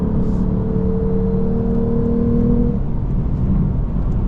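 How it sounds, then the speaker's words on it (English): The naturally aspirated V6 of a 2023 Lexus RC 350 F Sport revs loudly and close, a steady droning tone that climbs and then drops off as the throttle eases, with no voices. "you got a nice naturally aspirated V6 sound"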